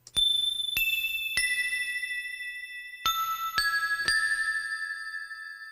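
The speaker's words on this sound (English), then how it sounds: "They're simple wind chimes too." Bright metallic chimes struck in clusters, each strike ringing out with long, clear overlapping tones that slowly fade, close and fairly soft.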